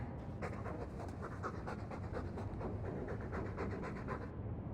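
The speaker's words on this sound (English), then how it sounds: "All that noisy dog breath, day in, day out, make him stop." A dog in the video game Dragon Age II pants steadily and close by, its quick rhythmic breaths continuing without pause and without any talk.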